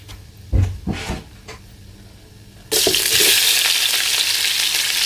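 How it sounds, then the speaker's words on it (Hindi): Onions dropped into hot oil for an aloo gosht (mutton and potato curry) burst into a loud, steady sizzle midway, after a few handling clatters, and keep frying evenly to the end. "अभी मैं इसमें प्याज डालने वाला हूँ।"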